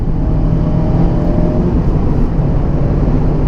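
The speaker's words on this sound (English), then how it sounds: "It's actually quite a bit louder than we expected it to be, engine noise wise." Engine and road drone inside a moving Mazda Miata, a steady loud low rumble with wind noise, continuous and without speech.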